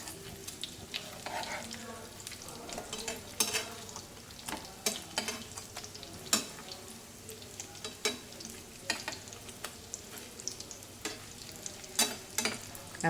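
Vegetable tikki patties for a cheese burger fry in a pan over medium heat, giving a soft, steady sizzle broken by frequent crackles and pops.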